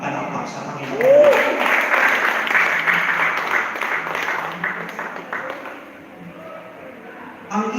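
A church congregation applauds during a preached message, steady sustained clapping from many hands for several seconds, thinning toward the end before a brief burst of clapping resumes.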